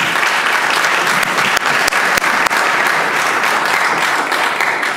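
Sustained applause fills the Virginia House chamber for visiting Girl Scouts and their volunteers, a large crowd clapping steadily and loudly throughout, with a few sharper individual claps standing out.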